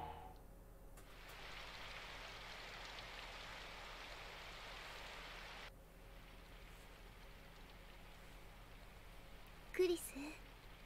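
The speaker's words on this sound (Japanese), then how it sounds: "クリス、そちらは今も雨が降っていますか" Steady rain hissing on a surface in the visual novel game Symphonic Rain, a soft even wash that drops lower partway through, with a brief louder knock near the end.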